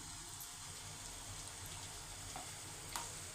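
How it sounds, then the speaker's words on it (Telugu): Faint, steady sizzle of sesame chegodi snacks frying in hot oil, a continuous bubbling hiss with a few small clicks, no voices. "ఇప్పుడు మిగతా అన్నిటిని కూడా ఆ విధంగా ఫ్రై చేసుకోవాలి"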